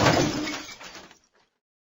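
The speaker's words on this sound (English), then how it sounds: "The glass pane shattered." A cricket ball dropped from a height onto a thin glass pane shatters it in one loud crash, followed by fading tinkles of falling glass and a brief final clatter.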